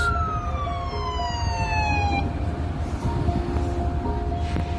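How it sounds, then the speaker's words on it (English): An ambulance siren wails in sweeping falling tones from some distance in Toronto, then stops abruptly, leaving a low traffic rumble behind. "comes the ambulance."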